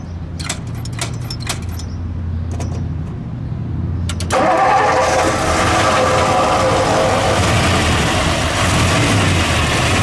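A 1956 Lincoln Premiere coupe's 368 cubic-inch V8 turns over after a few key and door clicks, then settles into a loud, steady idle close by that fills the rest of the clip.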